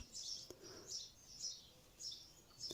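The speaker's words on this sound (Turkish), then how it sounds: "umarım kuş sesleri de size geliyordur." A small bird chirps in quick, high repeated bursts at a steady rhythm, faint and somewhat distant against a quiet background.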